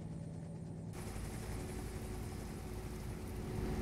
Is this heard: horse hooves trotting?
no